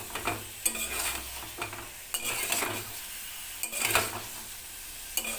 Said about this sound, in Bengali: এবার ডিমটাও কষিয়ে নেবো মশলা দিয়ে।